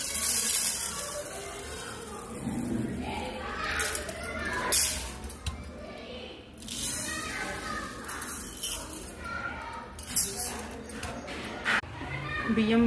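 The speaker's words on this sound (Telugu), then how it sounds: "బియ్యం వాష్ చేసుకుందాం." Rice is washed in water for paramannam, with soft sloshing and swishing in a pot or bowl running throughout under steady talk.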